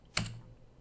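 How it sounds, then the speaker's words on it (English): A single sharp keystroke on a computer keyboard, close and fairly quiet, a brief click with a short low thump, then near silence. "I should be hitting the little key here on the keyboard a little quieter"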